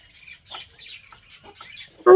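High, thin chirps from chicks come in short, scattered bursts, ending with a sudden louder, close call.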